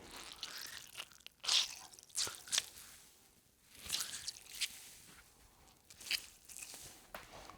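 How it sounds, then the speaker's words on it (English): Quiet, irregular drips and soft squishing as a wet cloth is squeezed, with small splats spread over several seconds. "I'm going to squeeze it so the water just kind of drips on there"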